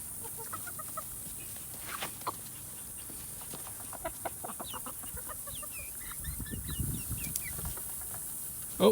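Chickens cluck and murmur softly in a flock, scattered short calls at a moderate distance over a quiet background, with a louder burst of activity near the end and no talk.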